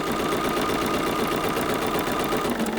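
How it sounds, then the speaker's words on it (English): A sewing machine runs in one continuous steady whir, stitching along a marked line on a fabric quilt block, close and fairly loud, with no speech. "I've started about 2 stitches off the line, and I'm going to sew"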